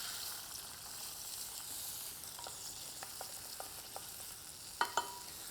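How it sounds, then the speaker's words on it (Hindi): Green peas cook in melted butter in a pan for matar paneer, giving a quiet, steady frying hiss. Small taps and clicks from stirring come through, and two sharper knocks near the end stand out. Nobody talks. "बटर मेल्ट हो गया, इसमें हम डालेंगे ग्रीन पीस।"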